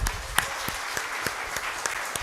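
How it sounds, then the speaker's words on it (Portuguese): A church congregation claps in worship, scattered hand claps with some sharper individual claps standing out at irregular intervals over a background hum of the room. "Você pode aplaudir ao nosso Senhor?"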